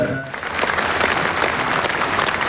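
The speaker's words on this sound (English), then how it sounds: "The crowds applauded Princes William and Harry as they drove from the Abbey" Crowd applause for Princes William and Harry as they drive from the Abbey after Princess Diana's funeral, a broad, dense clapping that builds after a brief lull and holds steady, loud and wide.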